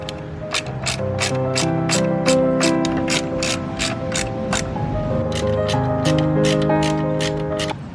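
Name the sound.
tightening a nut and bolt with a ratchet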